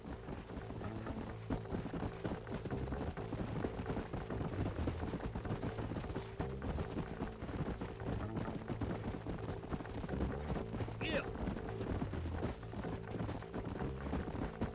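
Horses trot in a video game with a steady, fast clip-clop of hooves under a continuous background hum, moderately loud, with no talk.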